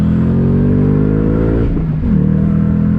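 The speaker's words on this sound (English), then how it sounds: "You get a little bit of supercharger whine." A supercharged 2021 Shelby GT Speedster Mustang convertible accelerating on throttle, its engine droning loud and close with a steadily rising pitch, a brief dip, then climbing again.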